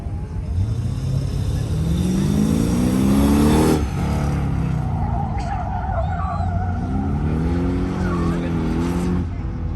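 Mercedes race car on an autocross course, engine note rising and falling steadily with revving through corners and braking for a hairpin, loud and close throughout, with a commentator's voice talking over it.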